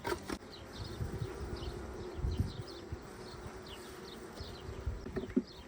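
A swarm of honeybees buzzes in a soft continuous drone, faint and steady, with occasional light thumps and rustles nearby.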